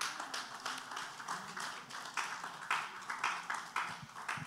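An awards ceremony audience applauding to welcome a speaker, faint and somewhat distant, a steady pattering of many hands rising and falling in small waves.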